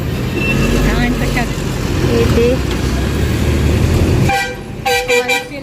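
Dense traffic jam on a busy road in Rajpur, with cars and motorbikes, a steady loud engine and tyre rumble, then several short horn toots near the end; voices talk over the noise.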